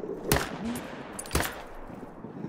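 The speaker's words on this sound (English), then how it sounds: "I am going to take a shot on him" Two loud, sharp rifle shots about a second apart ring out while hunting aggressive gray wolves in theHunter: Call of the Wild, each with a brief echoing tail over quiet game ambience.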